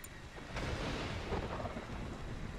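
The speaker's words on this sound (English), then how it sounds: "Just have to survive the thunderstorm." A low rolling rumble of thunder over steady rain in the survival video game Stranded: Alien Dawn, fairly faint and continuous with no voices.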